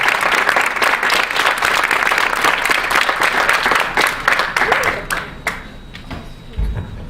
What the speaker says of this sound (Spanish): me gustaría que le dáramos un fuerte aplauso